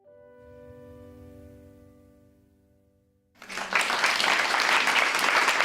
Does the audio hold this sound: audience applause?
yes